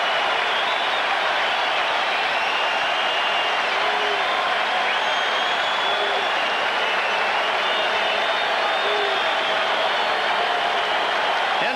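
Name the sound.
Fenway Park crowd cheering at the 1986 World Series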